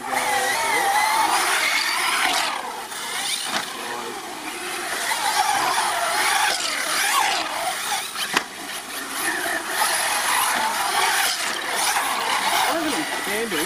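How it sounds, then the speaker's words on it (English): An Arrma Talion RC car scraping around a skate park wall, a loud continuous whining and grinding rush that swells and fades as it circles, with people talking in the background. "You can hear the Talion scraping when it goes around."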